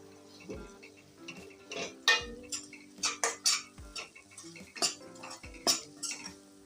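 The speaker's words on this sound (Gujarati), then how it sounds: "હવે આ બધો મસાલો આપણે મિક્સ કરી લઈશું" A spoon stirs spice masala into an aubergine and potato curry, making repeated sharp metallic clinks and scrapes against the pan at an irregular rhythm, close and clear with no talk.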